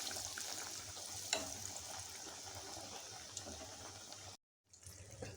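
Vada pav potato fritters dropped into hot frying oil: a steady, faint bubbling sizzle with a soft splash, continuous until a brief cut near the end.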